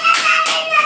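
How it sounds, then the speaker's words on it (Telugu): Children in a class clap together for a classmate who has just recited a Sanskrit verse, a brief burst of fairly loud, dense hand claps with no talk. "గుడ్, క్లాప్స్ కొట్టండి"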